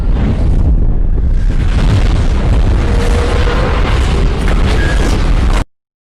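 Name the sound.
bomb explosion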